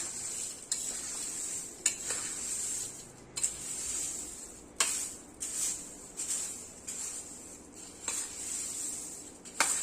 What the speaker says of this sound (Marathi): भाजके डाळे हे सगळं व्यवस्थित मिक्स करून घ्यायचे अगदी हलक्या हाताने